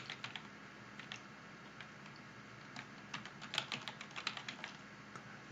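Computer keyboard typing as someone enters a search term, with irregular bursts of quiet keystroke clicks in a soft room, no voices.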